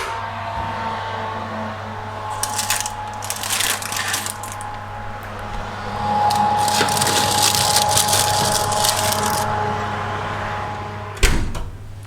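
An oven door and a dish slid inside for baking in a community kitchen: muffled clatters, scrapes and knocks over a steady low hum, ending with a sharp thud as the door shuts.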